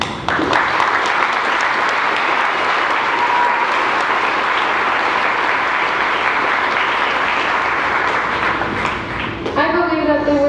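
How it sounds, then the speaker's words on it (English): A large crowd gives a sustained round of applause at a middle school graduation ceremony, loud and steady clapping for about ten seconds before a voice returns at the end. "we need to give a huge shout out and a round of applause to my awesome and wonderful teachers"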